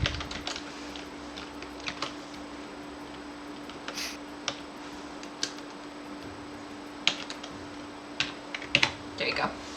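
Someone types on a computer keyboard in quick, irregular bursts of light clicks, spread through the passage with a few sharper key strikes near the end, set against a quiet room hum.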